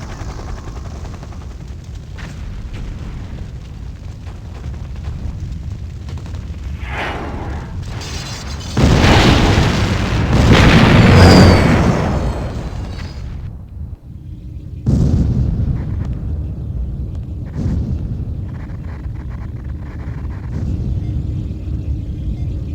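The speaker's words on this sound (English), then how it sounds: "The temple's been blown all to hell." Heavy explosions wreck Kane's temple in the Command & Conquer game, a continuous loud rumbling roar with a big blast swelling near the middle and a second burst shortly after, all without speech.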